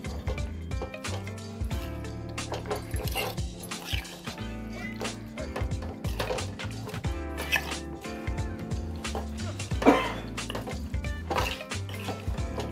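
Chicken being mixed with oil in a bowl for homemade shawarma, with repeated wet squelching and soft clinks of a utensil against the bowl, close and steady, one sharper knock near the end.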